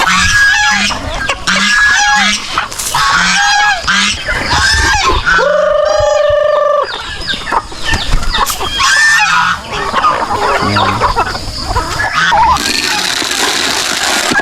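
Turkeys and geese call on a farm, a dense, loud flock of overlapping honks, gobbles and squawks that carries on without a break, with no clear talk over it.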